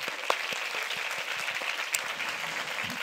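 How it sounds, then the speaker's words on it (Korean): A church congregation at Sunday worship applauds steadily, a continuous even patter of many hands at moderate loudness with no voices over it. "박수 더 쳐보세요."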